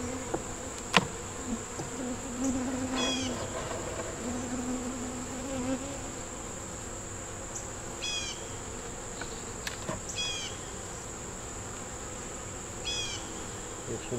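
Honey bees hum in a steady close drone from an opened hive, with a few sharp clicks of handled frames and a faint high-pitched whine running through the background.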